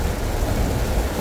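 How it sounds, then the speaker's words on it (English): Heavy, non-stop rain falls outdoors on a rural farm ahead of a hurricane, a dense, steady broadband hiss with low rumble and no voices. "Second day straight of rain, pretty much non-stop."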